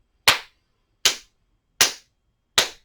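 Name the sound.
hands clapping to count breaths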